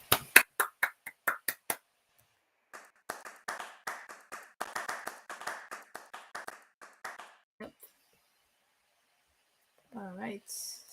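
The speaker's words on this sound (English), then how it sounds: "So a big round of applause for Nalani." A small group of people claps for a presentation, a couple of seconds of sparse, close handclaps followed by a voice talking with a few scattered claps beneath it.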